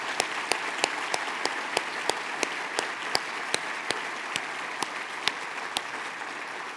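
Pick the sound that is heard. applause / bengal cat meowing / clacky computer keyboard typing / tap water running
applause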